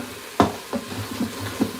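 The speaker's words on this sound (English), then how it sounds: "I'm sauteing the onion right now" Onion sautés in a pan while chili is being made, giving a steady low sizzle. A few soft scrapes and stirs from a utensil sit on top, close and quiet, with no talking.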